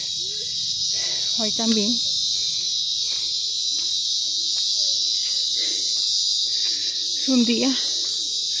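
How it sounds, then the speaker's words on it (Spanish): Cicadas chirp in steady loud bursts along a mountain path, a continuous high buzzing under a woman's speech, with brief animal-like calls rising twice. "Oigan las chicharras, precioso."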